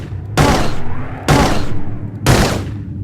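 Gunshots in a Blade Runner video game cutscene, three loud close blasts about a second apart, each with a short decaying tail, and no talk.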